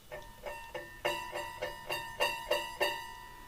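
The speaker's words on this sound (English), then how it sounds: "It gives you an idea of what a good tensioned scroll saw blade sounds like" Well-tensioned scroll saw blade plucked repeatedly, giving about ten bright metallic pings in a steady rhythm, each a short ringing tone with clear overtones that decays quickly, close and alone.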